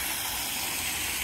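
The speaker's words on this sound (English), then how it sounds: "Here's the waterfall" Steady broadband rush of a waterfall in a woodland garden, loud and continuous with no breaks and no voices.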